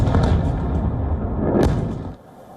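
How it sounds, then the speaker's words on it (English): Muffled, heavy booms of missile explosions over a city at night roll in as deep rumbling thuds, one sharper blast near the middle, then fade to quieter background. "The explosions are heard from miles away"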